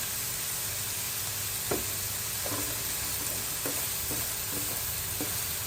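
Onions, green chillies and crushed garlic-ginger paste fry in a pan with a steady, fairly faint sizzle, broken by several soft spoon-stirring scrapes and taps.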